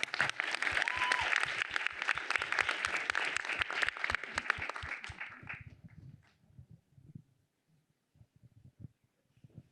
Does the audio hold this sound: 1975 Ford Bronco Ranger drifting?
no